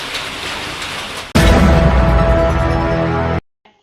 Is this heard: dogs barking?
no